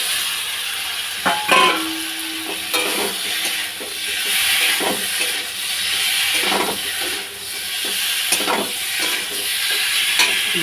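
Tomato and spice paste with cumin, coriander, ginger and green chilli fried in oil and stirred with pointed gourd, a steady close sizzle under repeated scraping strokes of a spoon against the pan.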